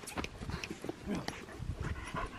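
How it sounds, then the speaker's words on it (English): A visiting dog on a rural property makes close, busy snuffling, panting and shuffling sounds with soft paw or clip-clop steps throughout. "Yes, yes, he's a good dog."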